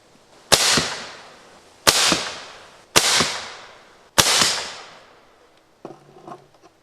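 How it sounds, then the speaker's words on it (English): A homemade pneumatic arrow shooter fires at 1800 psi toward a target about 14 meters away: four loud, sharp bangs roughly a second apart, each with a hissing tail, then some quieter handling knocks. "Okay, shooting distance is about 14 meters, and we're shooting at 1800 psi."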